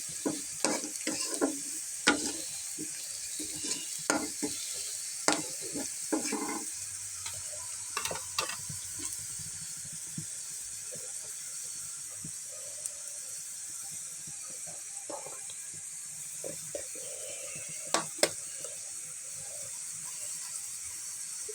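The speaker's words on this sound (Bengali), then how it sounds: "এটা ব্রাউন কালার না হওয়া পর্যন্ত ভেজে নিতে হবে" Noodles fry in a hot pan until browning, with a continuous soft sizzle and hiss broken by sharp clicks and scrapes of stirring, close and steady throughout, no voices.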